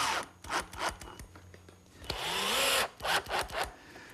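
Exterior grade screws being driven into lattice pieces for a garden gate trellis, set with marine adhesive: several short bursts of driving noise, then a longer sustained whine near the middle, followed by more brief bursts, close and fairly quiet.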